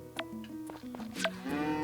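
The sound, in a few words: cows mooing in Story of Seasons video game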